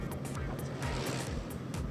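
Engine of a custom sports car built from a modified Toyota, running a Toyota 1500cc engine, holds a steady close rumble with faint hiss above, briefly under a nearby voice.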